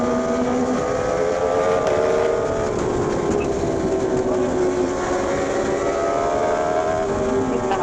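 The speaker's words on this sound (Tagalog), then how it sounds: "Traffic. Daming kasalubong." Road traffic heard from the saddle of a Yamaha MT-10 riding in a busy lane, with a steady, loud engine drone and rushing wind roar throughout and no talking.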